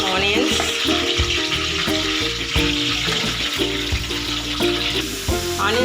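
Onions with green chillies fry in hot oil, a steady loud sizzle with crackling and scraping stirring sounds throughout, close up.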